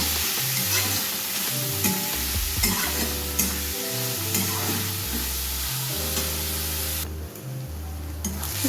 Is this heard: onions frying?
yes